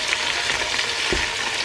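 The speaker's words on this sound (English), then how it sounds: "Now we are going to add our corned beef into the oil to fry it tiny bits." Chunks of corned beef hit hot oil for Ghanaian corned beef angwamo, giving a steady, close hiss of frying with a brief stirring scrape near the middle.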